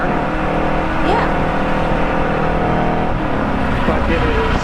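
A Radical single-seat race car engine drones steadily and loudly at Road Atlanta, with pitch rising as it accelerates and a couple of upshifts, over constant road and wind noise.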